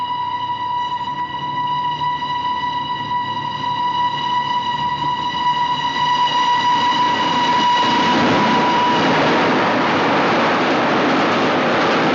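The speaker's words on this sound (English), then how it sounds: "No, it's the express. The boat train." An express boat train runs through a station without stopping, its horn blaring steadily before a loud, close rushing roar takes over as it passes.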